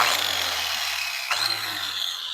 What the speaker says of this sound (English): be ready when you kickstart this power tool.